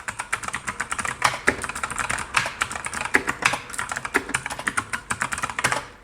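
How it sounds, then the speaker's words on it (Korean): Fingers type on a MANIC X50 optical-switch keyboard, whose keys sound slightly heavier than a typical blue-switch board. Rapid, irregular keystrokes clack close up, with a few louder presses and no talking. "보통 일반적인 청축 키보드보다는 약간 더 묵직한 소리가 납니다"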